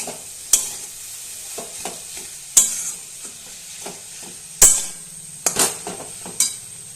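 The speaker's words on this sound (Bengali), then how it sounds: "এটাকে আমি আবার চামচের সাহায্যে কিংবা গ্লাসের সাহায্যে একটু ম্যাশ করে নেব" A spoon stirs and mashes soybean momo filling with potato in a pan, striking the metal in sharp, irregular knocks over a low background sizzle.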